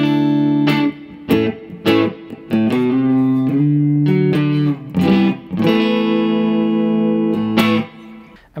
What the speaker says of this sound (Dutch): Allereerst ga ik je laten horen hoe deze gitaar clean uit deze Orange Pro klinkt.